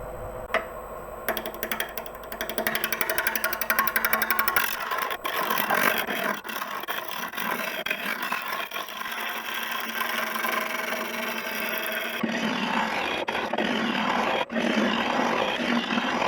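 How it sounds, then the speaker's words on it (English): Wood lathe spins an unbalanced travel coffee mug blank, producing a continuous loud rumbling roar with rhythmic wobble and rasping scrape textures, close and steady throughout. "So already a bit of wobble in the lathe there, so that's just under 700."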